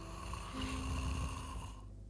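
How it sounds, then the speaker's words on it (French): A cartoon deer snoring loudly, a steady rumbling, breathy drone that holds evenly for about two seconds before fading, with no speech over it. "Tu fais plus de bruit qu'un chevreuil. Tu ronfles."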